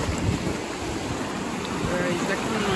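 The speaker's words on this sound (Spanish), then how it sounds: "Cuando las olas llegan altas, pues el agua se mete fuerte." Ocean surf washes onto a beach in Michoacán, Mexico, a steady broad rush mixed with gusty wind noise on the microphone.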